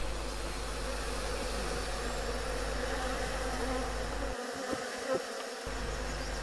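Honeybees drone steadily at a hive, forming a dense, continuous close buzz that holds level throughout with no voices.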